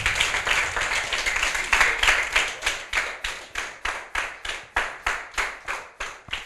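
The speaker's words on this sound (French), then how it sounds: "Alors bravo, on les applaudit bien fort." Audience applause after a children's book presentation: a loose burst of clapping that settles into slower, rhythmic unison claps, distinct individual hits repeating toward the end at moderate volume.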